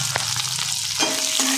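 Green chillies and lightly cooked garlic sizzle steadily in hot oil for a Marathi-style mirchi fry, with a brief clink near the start and a faint tone late on, no voices.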